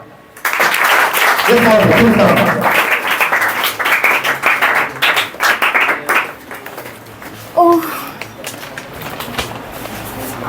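An audience claps as a speaker is invited onto the stage at a public speaking event, with a burst of applause starting near the outset and then thinning into scattered claps, while voices speak over and between them.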